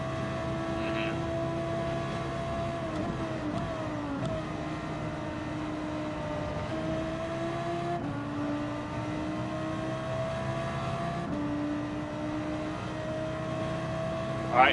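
A race car engine screams through a hot lap on a track, loud and close, its pitch climbing with each acceleration and dropping sharply at every gear shift, with no talk over it.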